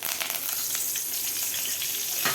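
Curry leaves frying in hot oil with mustard seeds, fennel and asafoetida, a loud, continuous crackling sizzle with quick spitting pops, close up.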